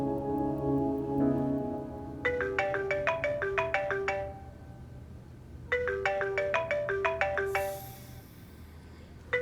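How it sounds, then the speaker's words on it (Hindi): A phone rings with an incoming call, two bursts of rapid, bright electronic ringtone notes separated by a pause, clear and fairly close in a quiet indoor drama scene. "मजर का फोन आ रहा है"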